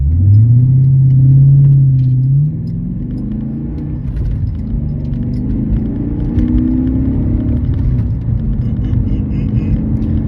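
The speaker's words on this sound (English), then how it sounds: "Listen to that car purr." A car engine idles with a low, smooth rumble close by, a brief rising rev at the start, then settling into a steady hum.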